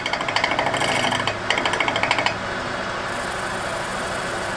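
A loud, steady wood lathe drone with a heavy rhythmic rattling vibration that pulses, then settles into a smoother continuous hum.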